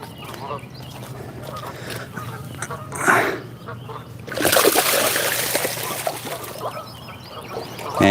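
A freshly caught fish thrashes and splashes water while fishing in the rain, with a loud burst of splashing midway after quieter outdoor background.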